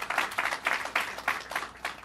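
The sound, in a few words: audience applause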